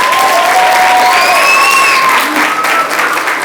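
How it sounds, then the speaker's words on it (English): At a Black History performance in a school hall, an audience gives a round of loud, sustained applause, thick continuous clapping with a few whistles and cheers rising above it, steady throughout. "Please give him a round of applause."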